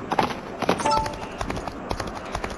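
Horse hooves gallop in a timed horse-racing video game with betting, a fast, steady clip-clop rhythm at moderate volume, with a voice faintly underneath.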